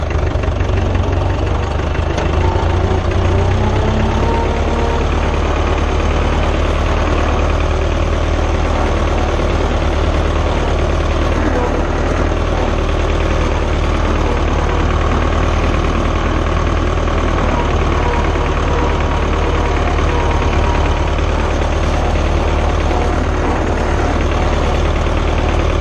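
A Fordson Super Major tractor engine runs loud and close in second gear, a steady low diesel rumble and knock that holds unbroken throughout.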